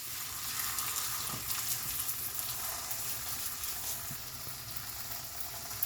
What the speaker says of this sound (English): The pan seems to be hot, so I will take my paratha and will shift it over here.